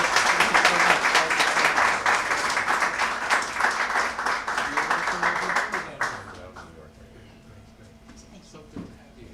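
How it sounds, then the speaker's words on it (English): Applause from an audience at a Pride Month celebration in New York City, dense and sustained clapping for about six seconds before quickly thinning out and fading to quiet. "Give them a round of applause again."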